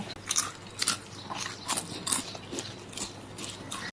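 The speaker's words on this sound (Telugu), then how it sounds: "చూడండి సౌండ్ ఎలా అవుతుందో చూసారు కదా ఫ్రెండ్స్ ఎంత క్రిస్పీగా ఉన్నాయో" Homemade crispy potato chips being bitten and chewed up close, a steady run of sharp crunches repeating every half second or so with no talking.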